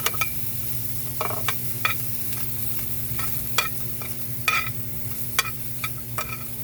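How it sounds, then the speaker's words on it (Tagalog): Onion and garlic brown in a pan before any oil goes in, making a soft steady sizzle with scattered sharp clicks of stirring over a low background hum. "pa-brownin muna natin yung ating sibuyas bawang"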